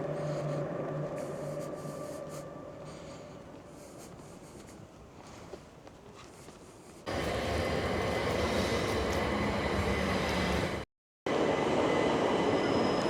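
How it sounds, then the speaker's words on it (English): A train arriving at a station on the Canterbury to Dover line rumbles and hums steadily, then a louder, brighter rush of rolling noise takes over, cut by a brief moment of silence. "And our train has arrived."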